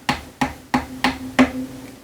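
Small hammer tapping a glued dowel into a guitar body during a strap button repair: five crisp, evenly spaced taps, close and clear, with no talking.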